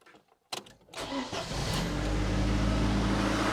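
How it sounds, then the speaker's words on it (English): A Ford Escort 1.6 16V engine cranks with a few quick starter whirs, catches, and settles into a steady, close idle that builds slightly in loudness. "let's do the engine startup once again"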